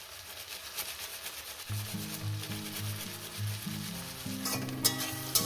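Powdered spices and grated ginger sauté in hot oil for a lentil dish cooked with rohu fish heads. A steady sizzle runs throughout, with stirring scrapes coming in, and a layer of background music sits underneath.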